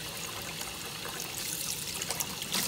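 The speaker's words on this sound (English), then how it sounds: "I'm just gonna run this water one more time." Kitchen tap water runs in a steady trickling stream as chicken is rinsed, a close, even splashing flow with no talk.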